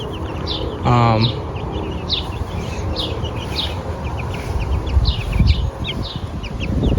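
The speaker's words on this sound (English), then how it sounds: "there's so many wild birds that reside in this line of trees." Wild birds, including robins, blue jays, cardinals, finches and sparrows, chirp and call repeatedly in short bursts from a backyard tree line some distance away, over a steady outdoor hiss, with a brief lower rattling call near the start.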